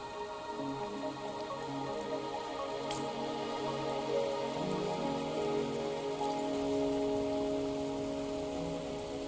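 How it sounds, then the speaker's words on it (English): Rain falls steadily in the video game Wuthering Waves, a continuous hiss of drops on surfaces with faint drips, layered under a soft sustained musical drone, no voices. "Are you trapped here by the rain?"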